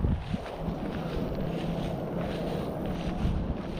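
Strong wind buffets the microphone while someone fishes for largemouth bass from a boat, a steady, loud, low roar with slight gusty swells throughout and no voices.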